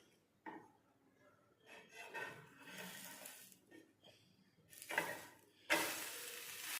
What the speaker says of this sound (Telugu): ఇప్పుడు దీని చుట్టూ కొద్దిగా బటర్ వేస్తున్నాను. మనం దీనిని కొద్దిసేపు వేగనివ్వాలి.